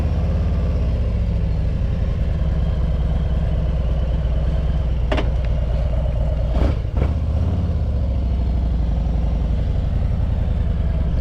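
A motorcycle fitted with Vance and Hines Eliminator 400 slip-on exhausts rumbles low and steady while riding, a deep continuous drone with brief clattering bursts partway through, no talking.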